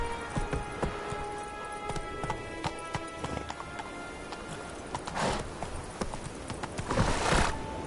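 Roach, a horse in the video game The Witcher 3, gallops with rapid, fairly loud hoofbeat clip-clops that carry on throughout, mixed with other game sounds.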